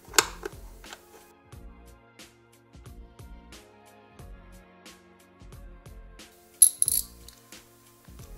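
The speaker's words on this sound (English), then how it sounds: "Then you can start putting your four bolts back in there" Metal clicks and clinks as bolts are threaded and tightened by hand tool during installation of a pull cord recoil kit on a 2020 Summit SP 850 snowmobile, a series of short close taps with a brighter rattle near the end.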